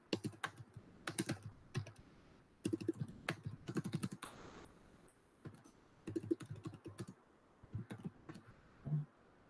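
Typing on a computer keyboard to add notes, with quick bursts of close, soft key clicks separated by short pauses and a few heavier keystrokes.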